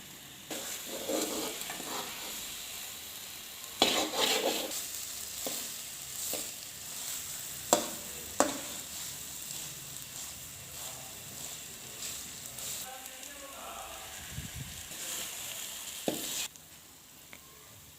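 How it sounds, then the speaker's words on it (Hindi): Gujarati halwa, its milk cooked dry, being roasted and stirred in a pan: quiet scraping and stirring with a low sizzle and occasional sharp knocks of the spoon. "अब हम हलवे को 5 से 7 मिनट अच्छे तरीके से भून लेते हैं"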